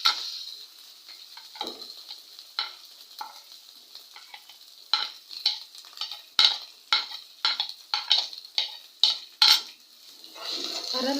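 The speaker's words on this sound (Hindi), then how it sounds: "अब इसको भूनेंगे थोड़ी देर।" Ginger garlic paste and green garlic fry in a pan for mung dal, a steady low sizzle under repeated metal spoon scrapes and clinks that quicken into a rapid stirring rhythm, close by with no talk.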